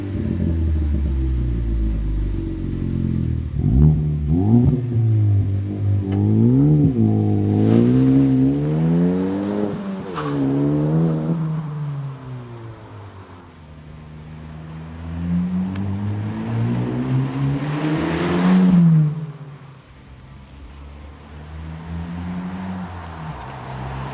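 A 2013-2018 Ford Focus ST fitted with an MBRP XP Series 3-inch cat-back exhaust revs repeatedly, each throttle blip rising into a deep, throaty roar and falling back to a rumbling idle, close and loud.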